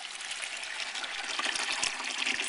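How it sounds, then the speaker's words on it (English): Filtered water gushes steadily into the reservoir of an Emerson portable ice maker, a close, continuous splashing pour with no voices. "You need to fill it with filtered water"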